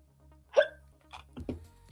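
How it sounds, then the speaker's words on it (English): A person hiccups, one sharp, clear hiccup followed by a few softer catches of breath, close to the microphone in a quiet room. "Hiccups."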